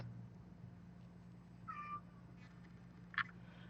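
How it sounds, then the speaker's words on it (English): A house cat meows softly in the background of a quiet room where finger puppets are being made, two brief faint calls, the second sharper, over a low steady hum. "Can you hear my cat?"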